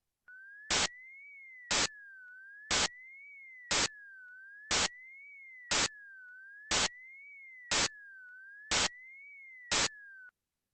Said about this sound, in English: The gap is filled by white noise.